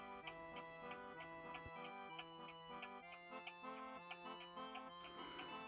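A French antique table clock with a pendulum and bell ticks in a steady, even rhythm, the soft regular beats running under a background melody.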